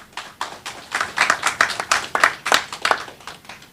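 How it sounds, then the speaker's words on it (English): A small group claps for a guest at a regional security media launch, brisk uneven clapping from a few people fairly close by, with individual claps standing out. "Give him a round of applause, please."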